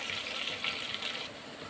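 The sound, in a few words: water being strained off while cooking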